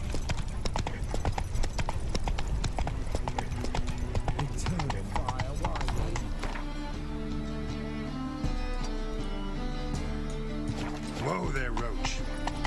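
Horse hooves clop rhythmically on the ground in The Witcher 3, a steady close beat that slows over the stretch, while a voice talks to the horse over it.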